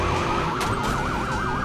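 A police siren wails in the Watch Dogs video game, its pitch sweeping up and down in a steady rapid cycle over a constant engine and traffic rumble, loud and close with a couple of sharp bangs mixed in.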